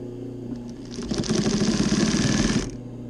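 A sewing machine runs a burst of rapid, steady stitching along cording on Volkswagen Double Cab seat upholstery, close and loud for about a second and a half, with quieter mechanism noise before and after.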